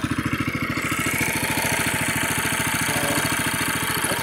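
A Murray go-kart engine idles steadily after carburetor work, its small single-cylinder putter firing in a fast, even rhythm at close range, loud and unbroken with no talking.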